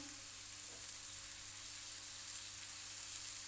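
Onions fry gently in a pan, a steady, bright hiss and sizzle holding evenly throughout, quiet and close, with no talk over it.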